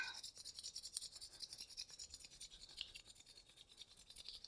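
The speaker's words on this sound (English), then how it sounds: "Rubbing the palms together, creating some heat." Palms rubbed together quickly during a yoga flow, producing a soft, rapid swishing friction that repeats in a fast, even rhythm, close and quiet.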